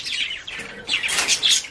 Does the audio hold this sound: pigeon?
yes